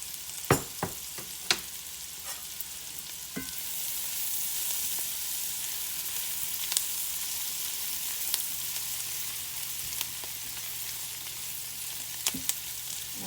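Potatoes sizzle and fry steadily in a pan, a constant crackling hiss with a few sharp clicks and taps of utensils against the pan, close and without talk.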